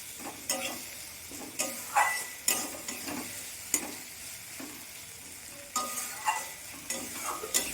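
Chopped tomatoes get stirred into a sizzling Bengali fish curry in the pan, with repeated scraping strokes and clanks over a steady frying hiss, close and clear, with no one talking.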